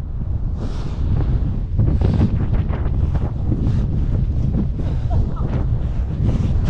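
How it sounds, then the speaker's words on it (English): Strong gusting wind roars across the microphone at a kite spot by the sea, a loud, steady buffeting rush with surging gusts throughout. "It's fucking windy"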